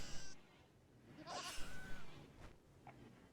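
Goats in the Rimworld video game bleat in distress as they are killed, several wavering cries overlapping over a low background rumble, moderately loud with no talking.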